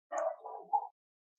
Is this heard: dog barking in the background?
yes